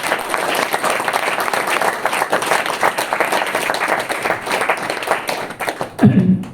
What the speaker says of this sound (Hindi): तो एनडीएस के लिए जोरदार तालियां।